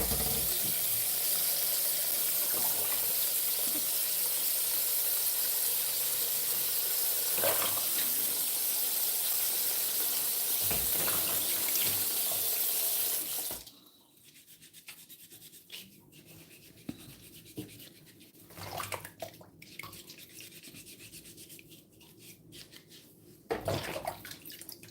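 Produce scrubbed under a running kitchen tap: a loud steady rush of water for about half the time, then the flow stops, leaving quieter rubbing, handling knocks and occasional splashes.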